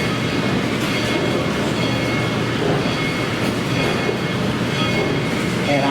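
A heritage railroad train rolls past at Tweetsie Railroad, a steady, loud, close rumble of wheels and cars with faint clatter, continuous throughout and drowning out any talk.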